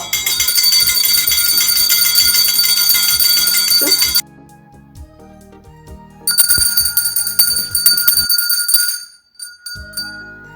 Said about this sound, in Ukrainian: хай дзвонить дзвоник радісний, завзятий